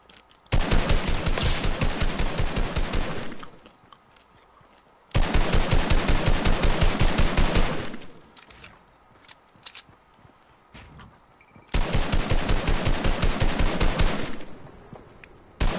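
Automatic gunfire in the video game Fortnite, three long rapid bursts of several seconds each separated by short pauses, loud and close with no talking.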